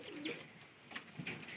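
Pigeons, kept high-flyer birds, cooing softly nearby, a few low throaty coos over faint background noise.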